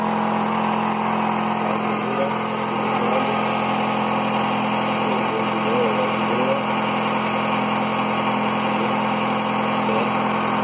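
A car engine adapted to run on gasoline vapor idles steadily with a continuous low hum and mechanical drone, close and constant throughout, with no voices.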